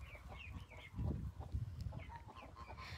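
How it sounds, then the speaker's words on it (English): Mother hens cluck softly and repeatedly nearby in a low, steady murmur, with a few higher chirps mixed in. "So you can hear the mothers clucking in a very specific way."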